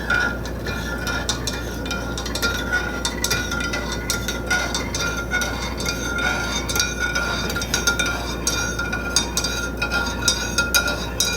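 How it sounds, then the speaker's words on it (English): A spoon stirs a cinnamon coffee drink in a glass, giving a steady run of light clinks and taps against the glass, close and fairly loud with no talking. "And I'm going to stir it up."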